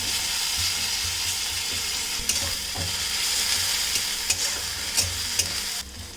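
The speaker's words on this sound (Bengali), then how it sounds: "রসুনটা একটু ভেজে নেওয়া হয়ে গেছে পেঁয়াজের সাথে।" Garlic paste and onions fry in a pan for a Bengali fish recipe, a steady sizzle with scraping stirs and a few sharp clicks of the spoon against the pan.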